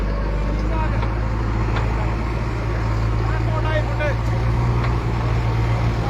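Tractors and bulldozers drive one after another over standing crops in a river floodplain field, a steady heavy engine drone with low rumble throughout, loud and continuous, with faint voices in the background.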